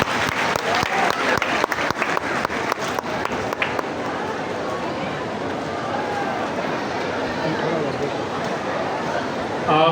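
A congregation at the closing Holy Mass of the pilgrimage at Holy Mary's National Shrine in Mariyamabad claps, starting with sharp, distinct claps that merge into a broad wash of loud applause, with voices throughout.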